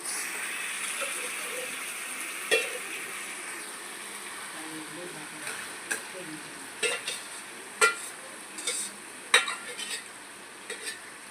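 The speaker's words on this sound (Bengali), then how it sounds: "এবার টমেটোটা ফ্রাই হওয়ার জন্য চিকেনটা দিয়ে দিয়েছে" Chicken frying with tomatoes in a pan for a homemade biryani, a soft steady sizzle with scattered scraping clicks of a utensil against the pan.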